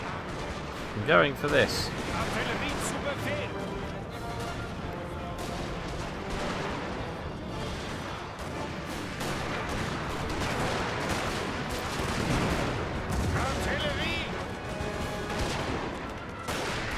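Volleys of cannon canister shot and musket fire crackle and rumble continuously across a Napoleon: Total War battlefield, a dense distant fusillade with someone talking briefly over it.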